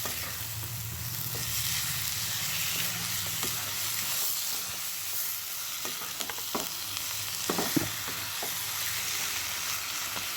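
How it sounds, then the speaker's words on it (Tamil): Chicken pieces being stirred into onion-chilli masala in a hot pan, a steady loud sizzle with scraping and clacking spoon strokes throughout, no voices. "சிக்கன் ஆட் பண்ணி நல்லா மிக்ஸ் பண்ணிடுங்க"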